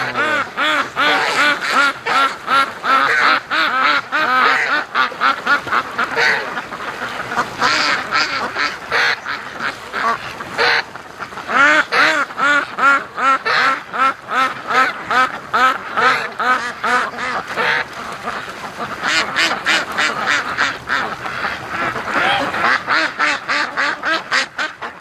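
Free-range Muscovy ducks and geese gather by a lake, filling the air with dense, overlapping quacks and occasional honks that come in close, rhythmic bursts for the whole stretch, with no talking.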